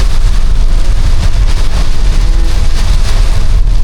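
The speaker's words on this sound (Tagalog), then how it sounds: "talagang palupit ng palupit yung bira ng ulan at hangin" Heavy typhoon rain and strong wind batter a travelling vehicle in a loud, unbroken roar that fills the whole stretch without pause.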